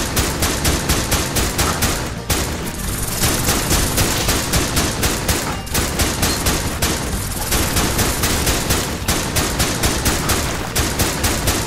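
Rapid, relentless revolver gunfire in the video game Dick Wilde 2, set in Redrock Grotto, cracking in a steady machine-like stream with only brief pauses, loud and close, no talking.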